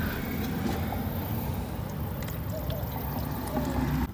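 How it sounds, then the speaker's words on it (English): Water pours steadily into a car trunk during a leak test, a dense continuous splashing rush that stays loud and even throughout. "As you can see, it's coming down and filling up with water"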